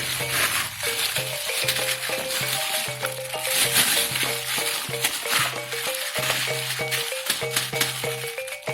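Seasoned chicken is stirred in a pan after salt is added, with steady frying sizzle and repeated rattling scrapes of the utensil. A rhythmic tonal pattern runs underneath, likely background music, and no one speaks.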